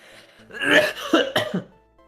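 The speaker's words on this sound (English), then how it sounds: "Coughing again?" A throaty cough sequence, a rough hacking burst followed by a couple of shorter coughs, close by and moderately loud.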